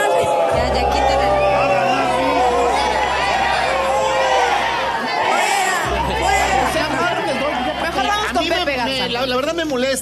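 A studio audience at a Mexican TV variety show cheers and whoops loudly throughout, with dense crowd shouting and chatter that stays close and continuous, and a low hum running beneath.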